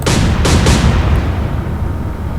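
Warship guns firing in the Atlantic Fleet naval video game, loud deep booming blasts in quick succession at the start, then a long rumbling decay.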